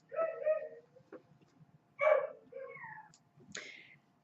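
Dogs barking indoors, a few separate loud barks and yips spread out with short quiet gaps between them.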